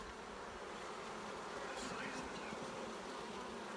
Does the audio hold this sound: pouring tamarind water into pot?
no